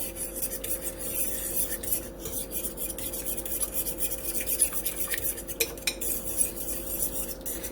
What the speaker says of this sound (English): You want to make sure that cornstarch gets mixed in there good.